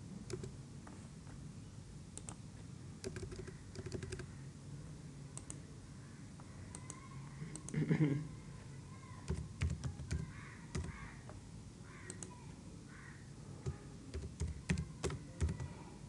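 Someone types a name on a computer keyboard during software installation, with sparse, close key clicks at first, then quicker clustered taps, fairly quiet over a faint room hum.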